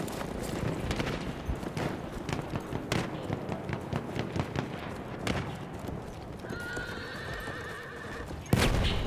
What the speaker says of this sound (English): Got a horse here.